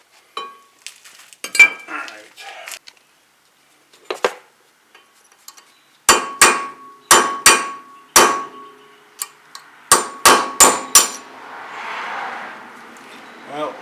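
A hammer beats on a brake rotor stuck on a 2007 Honda Accord, producing sharp metallic clanks, a few scattered ones and then rapid clusters of loud strikes, ringing close up, followed by a brief rattling scrape.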